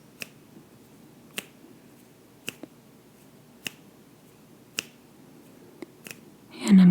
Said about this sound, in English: I'm going to start snapping my fingers